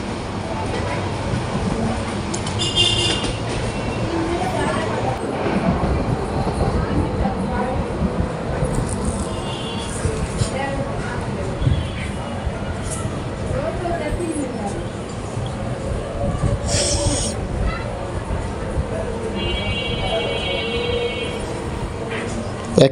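The Parjatak Express intercity train runs from Dhaka toward Cox's Bazar, a continuous rumble heard from inside as it passes a station, with occasional squeals and clatter. Faint voices come and go in the background.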